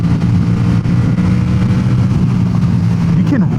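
Yamaha XSR700 motorcycle with an aftermarket exhaust, riding on a highway, its engine a loud steady low drone with wind rush and a brief rising rev near the end.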